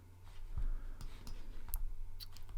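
Computer mouse clicks while browsing camera lens firmware updates: a few soft, close clicks at irregular intervals over faint room noise.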